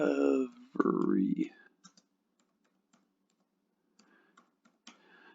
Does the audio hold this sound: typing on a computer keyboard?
yes